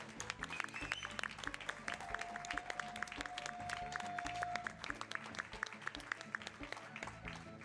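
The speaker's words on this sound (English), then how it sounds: "Can we get a cheer for Nashlax, please?" An audience at a summer speedrunning marathon event claps and cheers in sustained, dense applause, faint and distant throughout.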